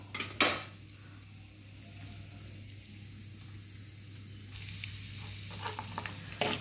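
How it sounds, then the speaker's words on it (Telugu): Chana dal and urad dal frying in hot oil with cumin and mustard seeds for a wheat rava and moong dal khichdi, a steady soft sizzle with a sharp clink near the start and occasional light crackles. "ఇప్పుడు పప్పులు ఇలా వేగుతున్నాయి చూడండి."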